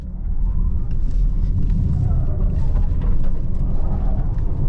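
A 2026 Cadillac LYRIQ-V electric SUV runs an autocross course, heard as a steady, loud low rumble of tyres and road noise from inside the cabin.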